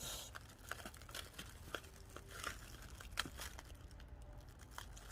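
Plastic wrap around an orchid plant crinkles and crackles in soft, irregular bursts, close and quiet, with no talking.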